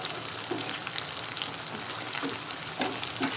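Mutton pieces fry in a browned garlic-ginger paste for a highway dhaba-style mutton karahi, giving a steady, dense sizzle with faint crackles and no talking.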